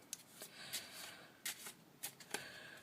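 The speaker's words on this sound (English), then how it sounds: "I'm going to shuffle it up just to show you." A deck of playing cards is shuffled in several quick riffling bursts, close and fairly quiet, with short pauses between each pass.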